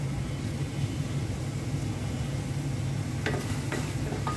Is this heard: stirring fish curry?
yes